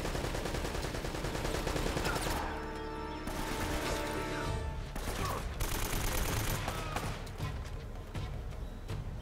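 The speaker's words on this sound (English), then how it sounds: "Oh, the machine gun. That's gonna be a problem." Sustained automatic machine-gun fire in Uncharted: Drake's Fortune, rapid dense bursts with crashing impacts and ricochets, loud and continuous across the whole stretch with a brief lull midway.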